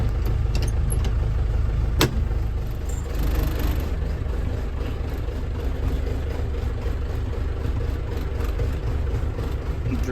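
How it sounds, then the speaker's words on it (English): A John Deere 6300 tractor engine running steadily at idle, a constant low diesel drone with one brief sharp click partway through. "Drove my tractor over here."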